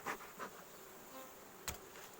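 Honey bees buzz softly around the honey super of a strong hive, a faint continuous hum with a few closer buzzing passes standing out briefly.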